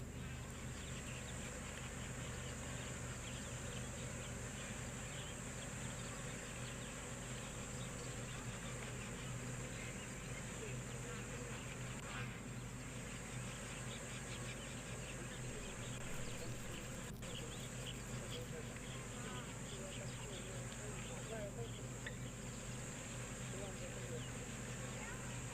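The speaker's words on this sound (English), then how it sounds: "you can quite clearly hear the bees" Bees drone steadily near water outdoors in nature, a continuous buzzing hum alongside other insect noise that persists throughout, with faint voices talking in the background.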